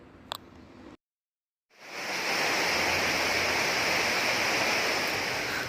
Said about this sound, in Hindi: कलकल की आवाज़ के साथ गिरता पानी हमारा ध्यान अपनी ओर खींच रहा था।